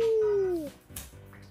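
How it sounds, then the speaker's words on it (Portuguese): A dog gives a loud, falling whimper, then a short yelp or bark, heard close and alone. "Vai, Nastia, pega, cachorro!"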